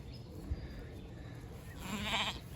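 A single faint sheep bleat sounds from a distance near the end, over quiet outdoor background noise.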